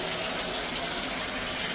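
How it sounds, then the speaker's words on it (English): A washing machine agitates laundry in water during a trail-town resupply stop, a steady, close sloshing and gushing wash of water with no talk over it. "everything's in the washing machine. And we're gonna agitate."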